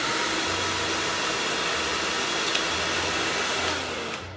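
A cheap hair dryer running on its high blow setting gives a loud, steady whoosh of motor and airflow that holds constant before easing off at the end, with no one talking.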